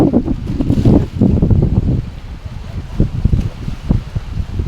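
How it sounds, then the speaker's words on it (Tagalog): Strong wind buffets the microphone in heavy low rumbling gusts, rising and falling throughout with no voices. "ang lakas ng hangin dito"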